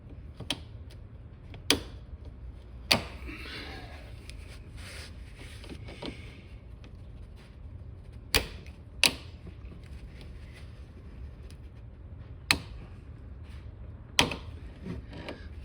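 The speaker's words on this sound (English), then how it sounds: "They have a little lip on them that they're supposed to lock open, which is the clicking noise that you're hearing" Salt-corroded hose clamps clicking as their lips lock open, sharp isolated snaps and creaks scattered irregularly over a quiet background, about eight distinct clicks, close and fairly faint.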